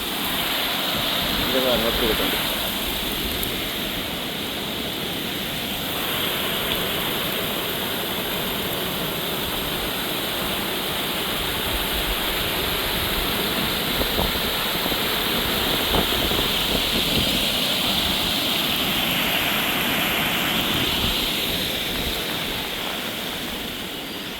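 Loud, steady roar of rushing floodwater in the Vanni region of Sri Lanka after Cyclone Ditwah fills the whole clip, broadband and continuous, with faint voices and occasional engine-like rumble beneath it.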